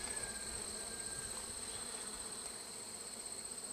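Calm honey bees on a frame from a modified Warre hive give off a soft, steady buzzing drone with a faint high whine throughout.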